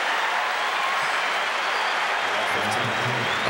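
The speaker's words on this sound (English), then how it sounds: "They're cheering everything now." A packed US Open tennis crowd at a Sampras versus Agassi match roars with continuous cheering and applause, a loud, dense wash of sound that holds steady throughout with a voice faintly beneath.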